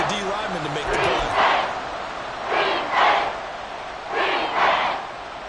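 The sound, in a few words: football stadium crowd noise trying to force a false start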